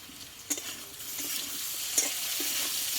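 Potatoes frying in plenty of oil in a pan are stirred with a spatula for a vegetarian Bengali potato dish seasoned with amchur powder, giving a steady close sizzle marked by two or three sharper scrapes.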